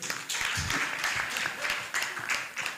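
Audience applause at a launch event in Uganda for a study on reparations for conflict survivors: a steady wash of many hands clapping at moderate volume for about three seconds, with no speech over it.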